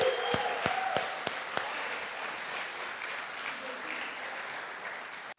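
A church congregation applauds. A few sharp claps at the start swell into a steady wash of clapping from many hands, fairly distant and fading slightly near the end.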